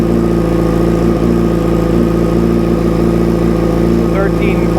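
A 2005 Yamaha R6 motorcycle engine idles steadily at close range, a constant mechanical hum with a faint whine on top that holds level throughout.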